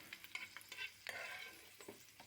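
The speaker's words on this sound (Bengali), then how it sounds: "ওই তেলের মধ্যেই দেব 10 থেকে 12 কোয়া রসুন। রসুনটাও ঠিক ভেজে নেব।" Ten to twelve garlic cloves fry in hot oil in a pan, giving a steady close sizzle with brief stirring scrapes and small pops scattered through it. No one talks.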